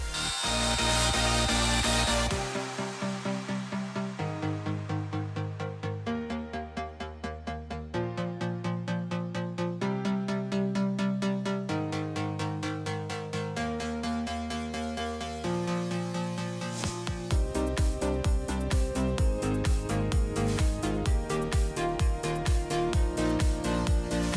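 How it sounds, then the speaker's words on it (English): An angle grinder grinds down welds during rust repair on a Miata's body, a loud, steady grinding whine that keeps shifting pitch as pressure changes, with no talk. "Now what we have to do next is grind it down"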